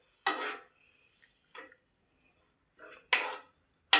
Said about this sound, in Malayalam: സവാള ഇട്ടു നമുക്കിനി തേങ്ങയായിട്ട് മിക്സ് ചെയ്യാം